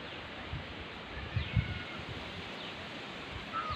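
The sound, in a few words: wind blowing through leaves in the evening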